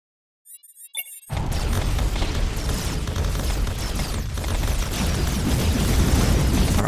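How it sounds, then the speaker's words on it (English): A few short digital blips give way to a sudden heavy boom as missiles strike in the strategy game Hyper Empire, followed by a sustained loud rumbling roar of explosions. "Are all them missiles."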